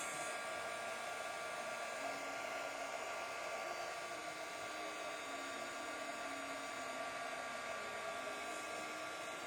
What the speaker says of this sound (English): you'll notice the spots that are starting to dry the quickest